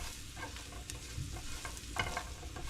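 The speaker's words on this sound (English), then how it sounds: "I'll turn it up high and sear the carrots" Carrots searing over high heat in a pan with a steady sizzle, while a utensil scrapes and stirs them, clattering a few times, close up and with no talking.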